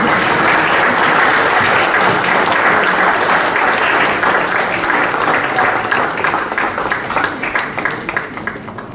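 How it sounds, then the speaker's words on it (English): Sustained audience applause at a mentor meet, a dense, steady wash of many hands clapping that stays loud throughout and thins slightly toward the end. "Guys, a round of applause,"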